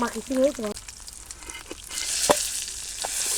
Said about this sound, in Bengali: একদম লাল লাল করে ভাজিয়ে নিলাম ডিমগুলো